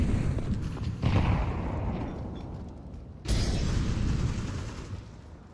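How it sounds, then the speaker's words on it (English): In a tactical shooter game, grenades blow up in two loud, close booms, each followed by a long rumbling tail. Gunfire crackles underneath between the blasts. "Grenade."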